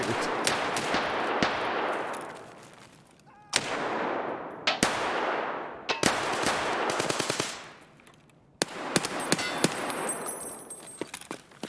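An AKS-74U fires in Escape From Tarkov, loud close bursts of automatic gunfire with long ringing echo tails, broken by short pauses and metallic clinks, with no talking.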